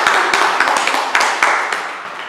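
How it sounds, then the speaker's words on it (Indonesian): A group of students clapping for a classmate during a classroom group-guidance session on critical thinking, a quick burst of close, fairly loud applause that starts together and tapers off over a couple of seconds. "tepuk tangan buat Dinda"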